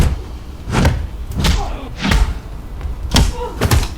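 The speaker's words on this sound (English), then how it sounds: "That triple shot, that triple punch there, it's the same move shown 3 times" Punch impacts in a fight scene from the 2017 film Still Alive: five or six heavy, dull thuds landing in an uneven rhythm, each a short, punchy hit with a brief muffled tail.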